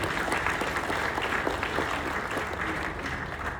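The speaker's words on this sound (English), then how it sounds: "clap for yourself" An audience at a motivational talk claps together in steady, continuous applause, dense and fairly close, holding an even level for the whole few seconds.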